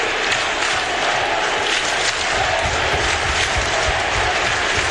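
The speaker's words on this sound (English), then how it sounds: "they're chanting his name as the buzzer is gone" An ice hockey arena crowd roaring, cheering and clapping continuously at the buzzer, a loud, dense wash of noise with chanting mixed in.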